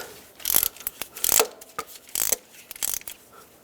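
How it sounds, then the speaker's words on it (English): A hand ratchet tightening a spark plug on a Chevy HHR, a few close, crisp clicking bursts in uneven strokes with short gaps between them. "Then we'll go ahead and bottom it out with the ratchet,"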